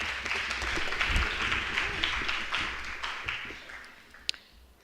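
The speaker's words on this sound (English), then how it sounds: "let's give her a round of applause" Scattered applause from an academic audience at a university postgraduate research day, moderately distant and soft, with a voice talking faintly beneath it as the clapping tapers off.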